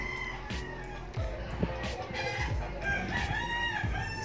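A rooster crows repeatedly close by while hens cluck around it, a lively farmyard chorus with a few loud calls rising over the background.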